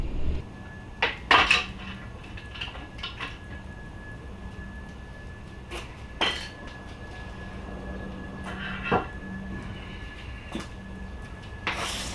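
Crankshaft being worked out of a Honda K20/K24 engine block on a bench, producing sparse metallic clanks and clinks spread over a quiet background.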